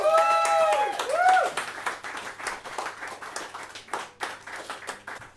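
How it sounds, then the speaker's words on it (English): A small audience at an open mic night applauds a performer. A vocal whoop opens over loose, scattered clapping that thins out toward the end. "ladies and gentlemen, a massive round of applause for Carlo!"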